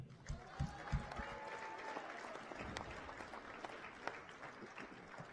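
Crowd applause at a college volleyball game between the Central Wyoming College Rustlers and LCCC, a steady patter of clapping from a gym crowd with a few sharper claps and faint murmuring, fairly distant.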